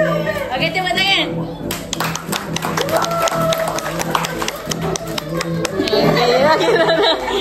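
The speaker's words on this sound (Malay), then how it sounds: "Okey, tepuk tangan." A family group at a family day outing in Terengganu claps hands together in a quick run of sharp claps, mixed with lively chatter, laughter and nearby voices talking over it.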